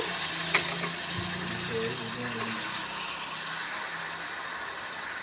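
Washed chicken pieces going into a pot of hot oil with softened onions, turmeric and salt for chicken curry, giving a steady close sizzling hiss with a brief clatter early on.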